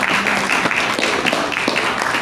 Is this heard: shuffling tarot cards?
no